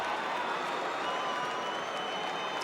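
A football stadium crowd at an AFL match between Essendon and the West Coast Eagles reacts after an Eagles goal, a steady dense roar and scattered clapping filling the whole stretch at even loudness.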